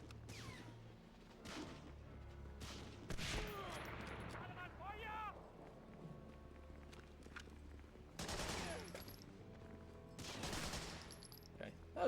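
Gunfire from shooting enemies in Medal of Honor: Frontline on PS2, with repeated bursts of shots and thuds spread across the stretch over a busy game soundscape, while a voice talks in between.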